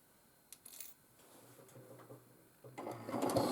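A sewing machine quilting a border design on a quilt runs in short, faint bursts of stitching. Light clicks and handling noises come between the bursts, and the stitching grows louder and busier toward the end.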